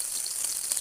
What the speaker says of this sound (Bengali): গরম তেলের মধ্যে প্রথমে পেঁয়াজ দিয়ে দিলাম,